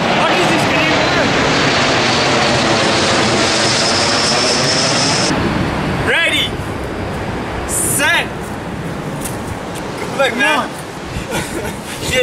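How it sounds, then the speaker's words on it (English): An airplane passes overhead with a broad, loud engine roar that fades after several seconds, while people talk and laugh over it outdoors in a residential neighborhood. "Another airplane, Kareem."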